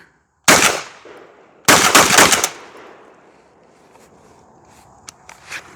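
Two loud shotgun blasts from a JTS shotgun fired with clay loads, about a second apart, each a sharp crack with a short decaying tail, then quiet outdoor ambience with faint small clicks.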